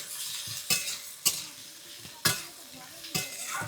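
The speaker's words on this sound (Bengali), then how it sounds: "এই যে ঘাটকল দিয়ে একটু নাড়াচাড়া করে নিলাম।" Ghatkol greens are turned in a frying pan: four or five sharp spatula scrapes at a slow, even pace over a soft, close sizzle.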